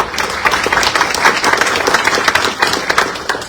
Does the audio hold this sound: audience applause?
yes